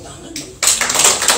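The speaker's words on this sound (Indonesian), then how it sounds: "Amin. Tepuk tangan." Church congregation breaking into clapping during a sermon: a sudden burst of many hands starting partway through and continuing briskly to the end, following a brief quieter moment.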